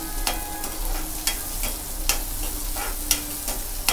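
Onions fry in a pan for Indori poha, a steady close sizzle punctuated by repeated sharp spatula scrapes and taps against the pan.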